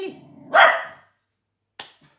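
A single dog gives a loud, close bark followed by a brief short yip after a pause, indoors with no talking over it.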